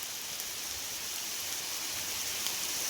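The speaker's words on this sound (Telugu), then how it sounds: "ఇక్కడ వర్షం పడుతూ ఉంది" Steady rain pours over open farm fields of cotton, marigold and paddy near a well, a continuous, even hiss of countless drops with no pauses and no voices.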